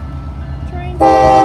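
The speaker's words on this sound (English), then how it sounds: "Recording a train." Low rumble of a CSX train nearby, then a loud horn blast suddenly cuts in and holds to the end.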